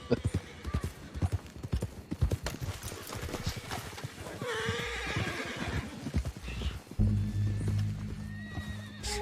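Horse hooves clip-clop in a quick, uneven rhythm in Red Dead Redemption 2 on PC, with a horse's whinny rising midway, all under people talking and followed by a low rumbling drone.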